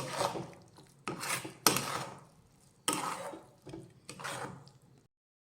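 A coconut and jaggery mixture for coconut barfi scraped and stirred in a pan over low heat: repeated rasping strokes, about five of them in uneven rhythm, close and moderately loud, with no voices.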